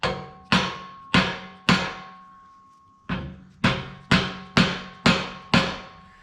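Hammer blows driving a fitted part into the C of an FJ Cruiser front axle, ten sharp metallic strikes with ringing decay, spaced unevenly with a longer pause midway, close and loud with no talking.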